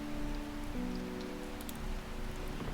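A rainstorm in the video game Strange Horticulture, with soft, steady rain pattering on a surface beneath a low sustained tone, faint and continuous.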